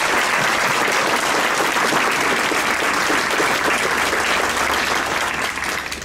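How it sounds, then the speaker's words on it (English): A ceremony audience applauds this year's award winners at a staff awards event, sustained thick clapping from many hands filling the room evenly before tapering slightly at the end. "Please join me in one more round of applause for this year's winners."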